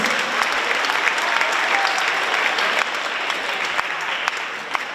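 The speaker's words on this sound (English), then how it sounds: "Let's hear one more round of applause to Mr. Young and all of our music and performing arts senior members and participants" A school pep rally crowd gives a round of applause for a music teacher and senior performing arts students, steady loud clapping with sharper individual claps popping out, dipping slightly partway through and continuing to the end.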